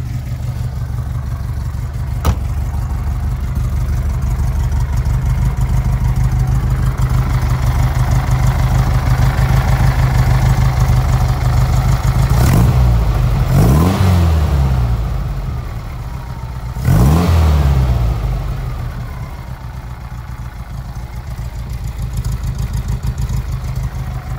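A 1969 Volkswagen Karmann Ghia Type 14 engine idles steadily with a low rumble, then revs up sharply twice in quick bursts before settling back to idle. No one speaks.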